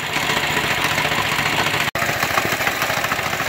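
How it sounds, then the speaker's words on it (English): A kids' mini bike with a small two-and-a-half horsepower engine runs steadily and loud, a continuous buzzing drone held throughout with one momentary dropout midway, no talk. "Got the old mini bike running."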